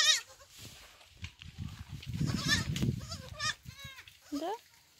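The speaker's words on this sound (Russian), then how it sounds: "Алиска нам преподнесла в августе сюрприз. Два козла и козочка." Young goat kids, two males and a female, bleat in short wavering cries at a small homestead farm, several calls near the mic, with someone speaking in between.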